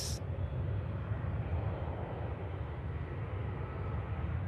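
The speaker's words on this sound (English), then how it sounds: "Another aircraft in from Paris, Charles de Gaulle. A220." An Air France Airbus A220 arriving from Paris Charles de Gaulle lands at Manchester Airport, a steady broad roar of engine and rushing air heard from a distance, continuous and even throughout.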